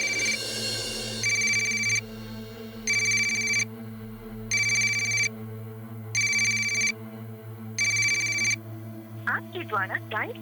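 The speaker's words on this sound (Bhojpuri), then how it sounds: "ये रोहन फोन काहे ना उठा रहा?" An unanswered phone call in a Bhojpuri film: six evenly spaced electronic ringback bursts sound loud and close over a low music bed, then a voice starts speaking at the end.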